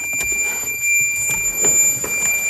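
A continuous high-pitched Nissan car warning chime sounds steadily throughout, with soft clicks and rustling nearby.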